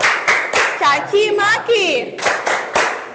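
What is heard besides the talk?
children clapping hands in class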